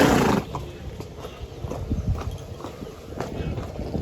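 A restless mare's hooves clip-clop on the ground in quick, uneven steps, close and fairly loud, with a short louder rustle at the start and no voices.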